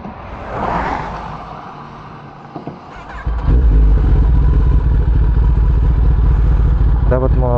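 A Kawasaki ZX10R sport bike engine idles loudly and steadily after a brief quieter stretch, its low rumble continuing with a short rising burst near the end; a voice talks briefly early on.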